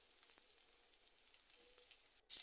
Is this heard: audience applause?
no